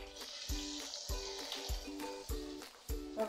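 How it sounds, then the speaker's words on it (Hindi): Cauliflower pakoras in a gram-flour spice batter fry in hot oil, a steady close sizzle with several soft, regular knocks of pieces or a spoon recurring about every half second. "तेल गर्म हो चुका था, डाल दिया।"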